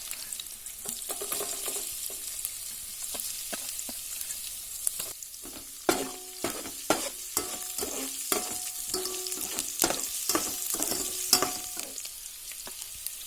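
Ginger, then garlic, frying in a pan for a jackfruit cutlet, giving a steady soft sizzle broken by sharp clinks and scrapes of stirring that grow more frequent partway through.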